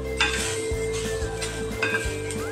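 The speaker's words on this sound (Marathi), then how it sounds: "आणि एक खोबरं परतून घेऊया." Grated coconut is stirred and sautéed in ghee in a kadhai over low heat, a spoon scraping and clinking against the metal pan in repeated strokes over a soft, steady sizzle, close and alone.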